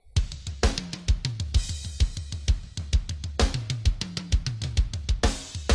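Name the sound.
layered snare drum preset, Yosh's BR10 Instant Fat Snare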